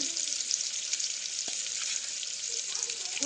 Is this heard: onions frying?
yes